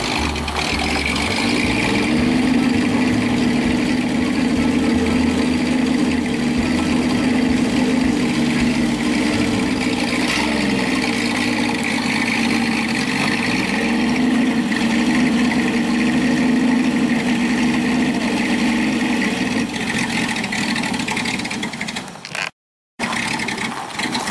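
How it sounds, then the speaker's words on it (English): A rat rod car engine idles steadily with a low, continuous rumble while the car is moved, loud and close, with no talking over it. "The rat rod is being moved."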